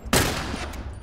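One loud, close gunshot blast from The Last of Us, a sharp crack followed by a long ringing decay.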